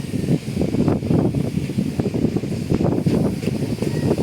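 Strong wind blows across a large outrigger fishing boat at sea, making a steady, loud roar and buffeting noise on the microphone that runs without a break and with no voice over it.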